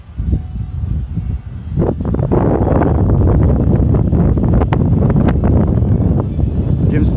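Strong wind buffets the microphone outdoors while a Z51 Predator drone flies in high wind, a loud, constant broadband roar and rumble that swells after the first two seconds and persists throughout.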